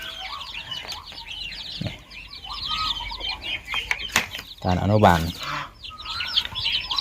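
Chicks and grown chickens kept in a pipe nursery on a backyard poultry farm cluck and chirp in a busy, overlapping chorus, with a louder squawk midway and someone talking throughout.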